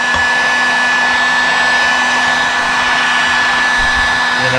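A heat gun or hair dryer blows a steady, loud, unbroken whoosh with a faint tonal hum while warming a Suzuki DR 650 rear wheel hub to free its bearing, close up and with no talk.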